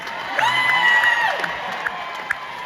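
Cruise ship audience cheering and whooping for the band and crew, high shouts and whistles rising over a crowd with scattered claps fading toward the end.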